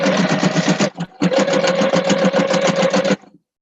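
A sewing machine stitches across the seams of a clutch wallet where two seams meet. It runs in two loud, steady bursts of rapid mechanical chatter, with a short pause between them and a quick stop at the end.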